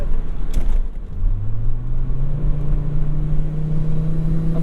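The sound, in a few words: C70 T5 swapped Volvo 850R revving in low gear, exhaust pops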